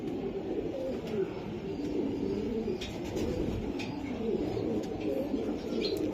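Racing pigeons from various clubs coo steadily at close range, a continuous low murmur of overlapping calls with occasional faint chirps, no talking.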